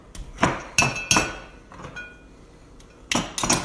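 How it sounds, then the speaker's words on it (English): A butter cutter chops butter in a bowl for apple crisp, giving sharp metallic clinks against the bowl in irregular bursts of two and three, close and fairly loud. "Cut this butter up."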